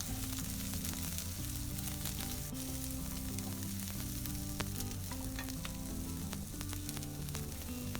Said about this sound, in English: And now I'm just going to add in the onions that we have cubed before.